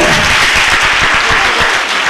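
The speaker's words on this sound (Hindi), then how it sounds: "थोड़ी सी ज्यादा तालियां बजाएंगे, इनका हौसला अफजाई होगा।" Steady, dense applause from an audience at a school academy's seerat competition awards ceremony, loud and close, filling the whole stretch with no voices over it.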